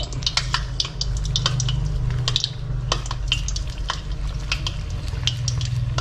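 Tofu skin rolls fry gently in low-temperature oil, giving a soft continuous sizzle under frequent metallic clinks and scrapes of a utensil stirring the pan.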